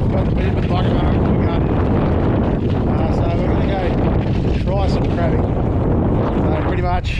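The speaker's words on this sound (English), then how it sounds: "it's probably very windy" Strong wind on a cold beach buffets the microphone with a constant loud low roar and rumble, broken by brief voices.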